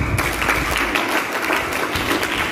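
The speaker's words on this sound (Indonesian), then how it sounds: "3 kali tepuk tangan dulu" Loud, continuous clapping from an audience at a group presentation, dense and even throughout with a low rumble underneath rather than three separate rhythmic claps.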